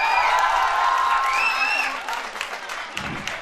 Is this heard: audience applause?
yes